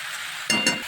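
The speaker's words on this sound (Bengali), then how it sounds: "দেখুন আস্তে আস্তে ভাজা ভাজা হচ্ছে।" Taro (dudh kochu) stalks and potatoes frying in a pan, a steady close sizzle with two brief louder bursts of crackling, as if stirred, then settling back to an even hiss.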